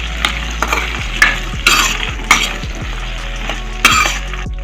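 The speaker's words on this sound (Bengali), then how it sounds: "আমড়াগুলো দেওয়ার পর আমি আমড়াগুলো একটু ভেজে নেব" Hog plums (amra) frying and being stirred in a pan for a sweet jaggery amra dish, with a steady sizzle broken by several clanking spoon scrapes at irregular intervals, close and fairly loud, no talking.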